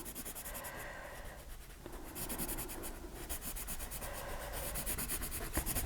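A colored pencil rubs steadily across a paper card, giving a close, soft scratchy scribbling with short pauses and quicker back-and-forth strokes.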